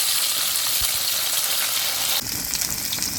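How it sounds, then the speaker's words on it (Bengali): Chopped onion and vegetables for a cauliflower and egg omelette curry fry loudly in a pan, a dense close sizzle that briefly intensifies as more goes in. "সবজিগুলো দিয়ে দিই। পেঁয়াজ কুচি দিয়ে দেবো,"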